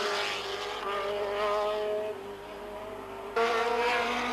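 Formula 3000 race cars from 1985, six of them battling for the lead, roar past with high-revving engines that shift pitch as they pass, loud and steady with one sharp surge near the end.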